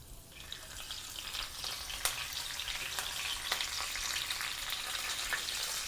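Sesame seeds and curry leaves sizzle in hot oil in a pan, a soft, even frying hiss with occasional sharp crackles, fairly faint and steady throughout.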